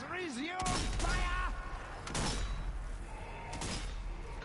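Gunfire and heavy impacts in the Zombie Army 4 video game, with several loud thumping shots and booms mixed with whooshing, warbling effects.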